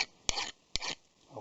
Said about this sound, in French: Là, on lime.